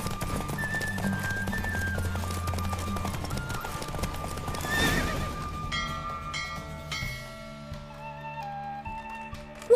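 Horse galloping in The Witcher 3 video game, a steady clip-clop of hooves running under a busy music and effects bed, with a brief rise of noise midway and no clear whinny standing out.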